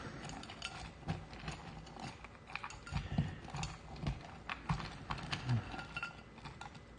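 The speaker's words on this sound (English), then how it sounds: "Just trying to shuffle them up." Cardboard counters for the Storm Above the Reich board game are shuffled by hand, giving a steady run of close, dry clicks, rattles and scrapes for several seconds with no talking.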